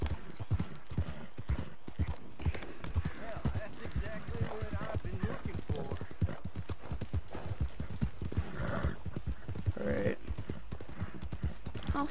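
Horse hooves clip-clop in a steady, continuous rhythm in the video game Red Dead Redemption 2, close and prominent, with a brief whinny and a voice speaking over them.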